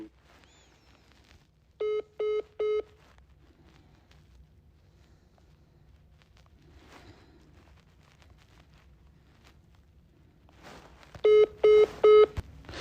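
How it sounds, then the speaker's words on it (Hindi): A telephone places a call. Two clusters of three or four rapid electronic dial tones sound, separated by a long quiet stretch with faint line noise and small clicks. "इनका फोन अभिषेक का जो है लगातार इंगेज बता रहा है"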